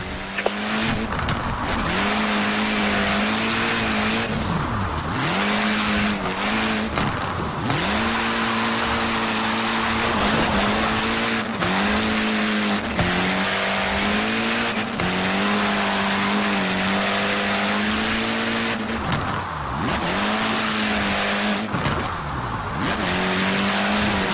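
A car driven in Forza Horizon 4 on mixed road surfaces, drifting through technical sections: a steady loud engine drone rises and falls with repeated revving swells and tire squeal through skids, with no talk.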